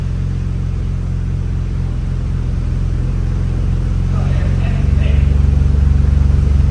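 A BMW X3M with a cheap aftermarket Alibaba exhaust, valve closed, idles with a deep rumble, then revs up into a louder, fuller drone near the end.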